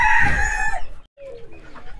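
Desi (native) rooster crowing loudly up close with hens clucking, in a backyard poultry setting on a rainy day; a bright crow fills the first part, then after a short gap softer clucking and fowl calls continue.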